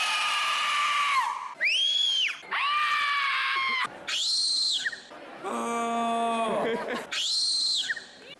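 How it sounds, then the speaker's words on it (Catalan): People at a youth festival in Alt Empordà compete in a shouting contest, letting out a string of loud, high, sustained yells and screams one after another, each held for about a second, with short gaps between them. "S'hi ha fet un concurs de crits."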